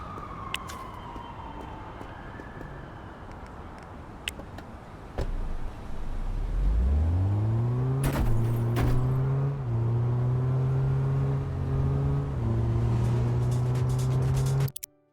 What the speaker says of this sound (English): police sirens, the casual chit-chat of the pedestrians and the cars and stuff sitting in traffic.